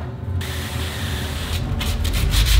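Wood being cut for a floating king bed frame, a close, steady rasping scrape of a saw working through the board, continuous and loud with no talk.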